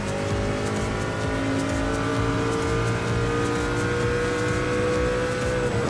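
A hybrid LMP1 prototype race car in Gran Turismo Sport holds a loud, steady high-pitched engine drone with faint tire noise, sustained close by throughout with no talk.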